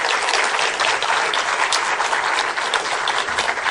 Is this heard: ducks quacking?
no